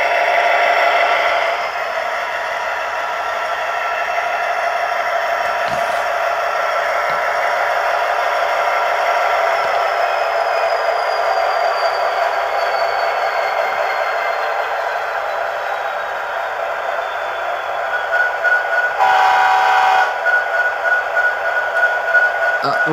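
A Bachmann SD70ACe model train locomotive's sound system hums and rumbles steadily, with a whirring motor and rattling tones and a brief whistle-like tone near the end.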